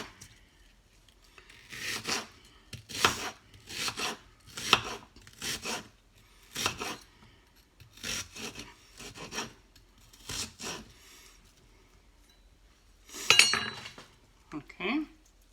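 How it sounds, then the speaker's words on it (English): A knife slices an onion into small rings on a board, producing a run of short crisp cutting strokes in an uneven rhythm, close and fairly quiet, with brief pauses between cuts and no talking. "Okay, I cut the onion in rings. Really small rings."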